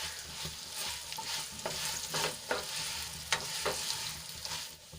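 Roti pieces stirred through a hot oil tempering of sesame seeds, curry leaves, cumin and asafoetida, with a continuous close sizzle and repeated scraping spoon strokes against the pan.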